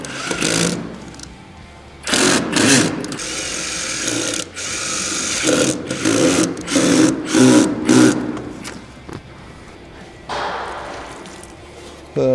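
A power drill drives screws through connector plates into pre-finished fireplace sections, with several loud whirring bursts of varying length separated by short pauses.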